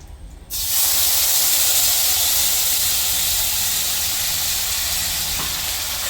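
Ginger, coriander and cumin hit hot oil with a sudden loud sizzle, then keep frying in a steady, close, hissing roar.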